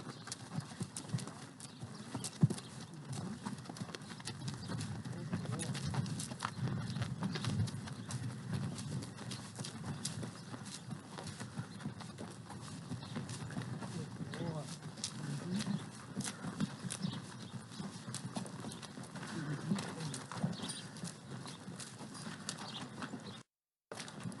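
Steady clip-clop of horses trotting around a riding arena at a ranch, continuous hoofbeats at moderate distance with an occasional snort or whinny, no talking heard.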